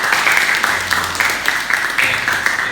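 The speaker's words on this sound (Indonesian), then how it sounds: "Kita kasih tepuk tangan untuk kelompoknya Mas Husain." Applause from an audience in a classroom-style presentation session, a steady patter of clapping lasting the whole short stretch at moderate loudness, with faint voices mixed underneath.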